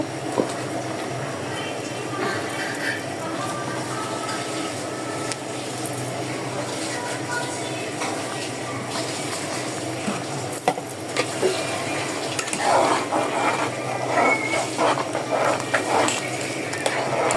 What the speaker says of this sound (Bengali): এই যে আমার লাউটা আমি বাগার দিয়ে দিচ্ছি